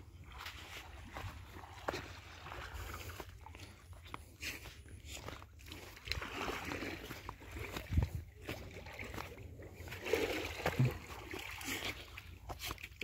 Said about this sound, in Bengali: এই যে আরো কিছু ট্রলার, বালির নৌকা,